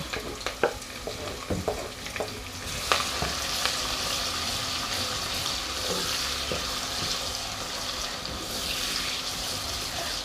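Chopped onions fry in hot oil for a Congolese beef dish, a steady close sizzle with a few clicks and scrapes of stirring early on.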